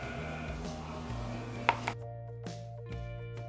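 Knife cutting up a block of Velveeta cheese in a home kitchen for mac and cheese, giving a few soft separate thunks and taps against a board over low steady background hum.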